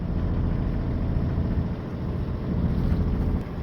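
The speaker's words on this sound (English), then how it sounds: "this is me motoring now for the next 10 hours" Sailing boat motoring under engine power along the coast from Stonehaven toward Arbroath, a steady dense low rumble of the engine mixed with wind and water noise, constant and close with no voices.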